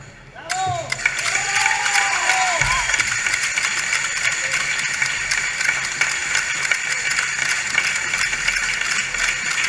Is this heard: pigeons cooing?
no